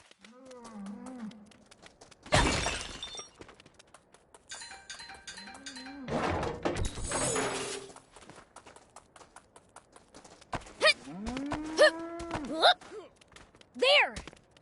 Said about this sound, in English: Was that a cow I just heard?